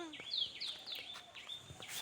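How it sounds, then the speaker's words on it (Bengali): Small birds chirp in the countryside near a village home, quick high tweets and short trills repeating close by at a quiet level, with soft rustling in the background. "পাখিগুলো কিচিরমিচির করে ডাকছে।"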